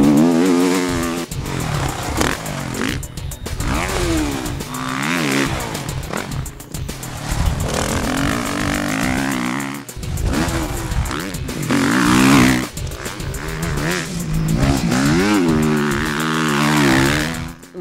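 2013 Suzuki RM-Z250 and RM-Z450 motocross bikes ride past, their engines revving and shifting in loud, continuous passes with rising and falling pitch, close by and unbroken by speech.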